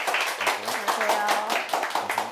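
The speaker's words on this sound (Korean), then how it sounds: "김대현 영화 감독님을 박수로 한번 모셔볼게요." Audience applause welcoming a film director onto a Korean lecture-show stage, with steady dense clapping under continuous talking by a host.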